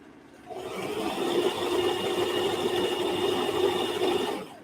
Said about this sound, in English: You rotate it underneath the sewing machine.